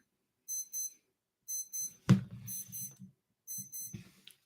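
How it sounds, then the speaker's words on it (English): An alarm clock at 4 a.m. gives bright paired beeps in repeating bursts, close and clear, interrupted once by a thump and muffled rustling movement before the beeping resumes. "4 a.m. alarm. Okay. I cannot stop because it's right there. I cannot approach. So let it beep."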